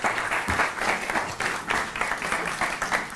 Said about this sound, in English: So round of applause for Maria.